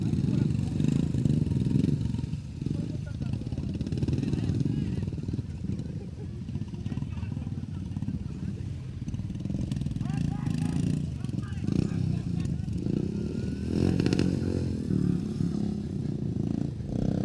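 Motorcycle engines revving and accelerating during a motoball finals match, a continuous mid-pitched roar with clatter, heard under steady commentary.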